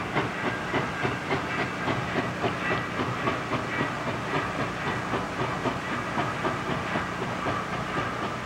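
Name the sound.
steam locomotive running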